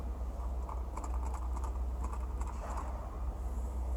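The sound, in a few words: rattling defective Mercedes G63 AMG seat headrest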